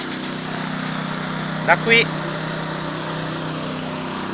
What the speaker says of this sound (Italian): Non so se mi avete sentito perché ci sono rumori delle pompe